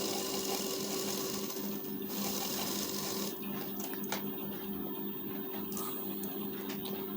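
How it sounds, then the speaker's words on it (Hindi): A sewing machine runs steadily while stitching the lining of a blouse, a continuous close mechanical whir with rapid needle clatter, without speech. "बूट के एक पैर का दबाव लेकर डबल सिलाई कर देंगे।"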